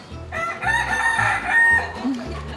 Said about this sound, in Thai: นั่งกินฟังเสียงไก่ขัน